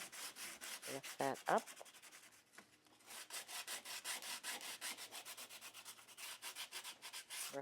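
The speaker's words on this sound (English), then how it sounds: "bring in some sandpaper" Sandpaper rubbed back and forth over the edges of an old book cover, a steady run of rapid scratchy strokes close up, with a brief spoken comment early on.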